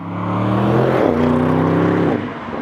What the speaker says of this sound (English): this is the 4-liter TFSI V8 biturbo, now with a mild hybrid system, 600 horsepower